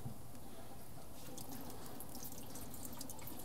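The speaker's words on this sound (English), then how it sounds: "that's when it'll start just dumping a little bit more fluid" Transmission fluid pours from a Cummins 47RE/48RE automatic transmission as its pan bolts are loosened, a steady close splashing trickle of liquid that runs on without pause and with no voices.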